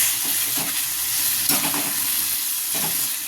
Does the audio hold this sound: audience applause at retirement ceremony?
no